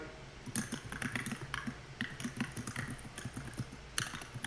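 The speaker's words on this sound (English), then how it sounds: "Oh, somebody's typing something," Quick, uneven keyboard typing with clattering key clicks in short bursts, close by and fairly quiet, no voices.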